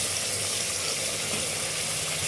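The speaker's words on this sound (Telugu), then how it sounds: "ఇదిగండి ఎర్రగా వేగిపోయింది పోపు" Tempering (popu) for tomato pachadi sizzles in hot oil, a steady, loud, dense crackle that fills the whole moment without pause or speech.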